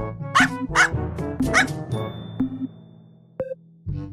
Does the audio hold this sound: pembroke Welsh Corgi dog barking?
yes